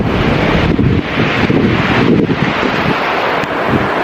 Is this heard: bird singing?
no